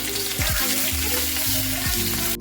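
Cardamom, cinnamon and onion paste dropped into hot oil, a loud, close, continuous sizzle and crackle of frying with no voices.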